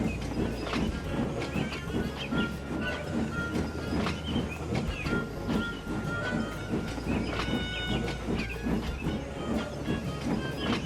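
An express train rushes past with a continuous rhythmic clatter of wheels on rails and a steady rumbling roar, sustained and fairly close throughout, with no voices.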